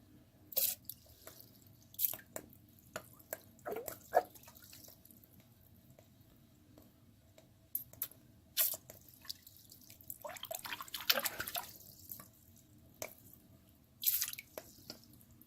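Water drips and splashes while nutrient solution is mixed for plants in late vegetative growth, with sharp intermittent plinks and short bursts of pouring over a quiet low hum.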